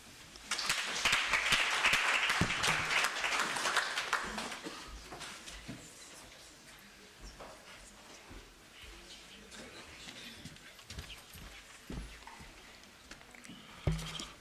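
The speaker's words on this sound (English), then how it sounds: "Another round of applause for Dr." An audience at a university research and innovation week event applauds in a dense burst that peaks early and then thins into scattered claps, with faint talk beneath and a sharp knock near the end.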